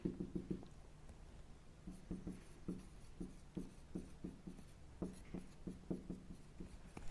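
A pen draws on a paper graph in a series of short, scratchy strokes, quick bursts separated by brief pauses, close and fairly quiet, with no voices.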